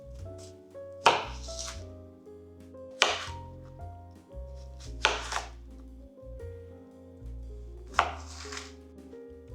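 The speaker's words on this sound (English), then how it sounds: "Here I'm just slicing it into wedges." A knife slices falafel ingredients into wedges on a cutting board, giving four sharp, separate chopping strikes spaced a second or two apart, set against steady background music.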